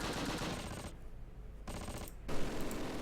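Rapid machine gun fire in the wartime strategy game Close Combat: Panthers in the Fog, dense crackling bursts with two short pauses, moderately distant and fairly quiet.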